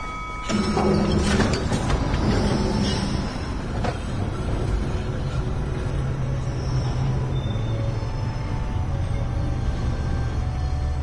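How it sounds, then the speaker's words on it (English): A tram in the game Syberia pulls in and keeps running, a steady low rumble with rattling and a sliding-door clatter early on, continuous and fairly loud throughout. "But here's our tram."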